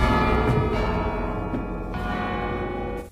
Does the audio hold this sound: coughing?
no